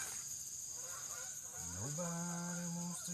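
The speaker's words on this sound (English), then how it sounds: "our geese are talking to us today" Geese honk nearby with a drawn-out rising call that settles into a steady, nasal tone over a constant background hum.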